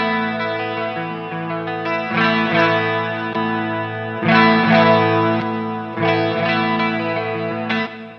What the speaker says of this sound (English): we get more of a stringy single coil type sound, right?